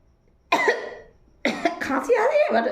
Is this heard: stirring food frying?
no